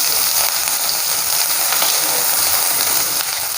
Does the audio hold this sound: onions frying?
yes